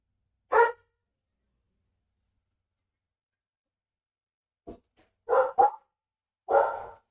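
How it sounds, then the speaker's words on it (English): Dogs barking indoors: one short bark, a long silence, then a few quick barks in a cluster and one more bark, fairly loud and nearby. "you guys may notice there's some doggos in the background"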